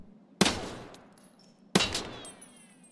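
Two loud, sharp gunshots in Escape from Tarkov, about a second and a half apart, each with a quick attack and a decaying echo tail in an otherwise quiet space.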